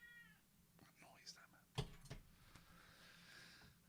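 A cat meows close by, one sharp cry followed by a shorter one, with soft breathy noises and faint background hum around it.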